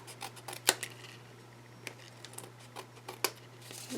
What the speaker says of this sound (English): just take your scissors and just trim off the excess.